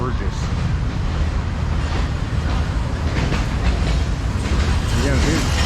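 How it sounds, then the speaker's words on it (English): A zoo train rolls past on its track in Mérida, Mexico, with continuous loud rumbling and rhythmic clacking that fill the whole stretch, close by, while people talk underneath. "Again, there's train going by."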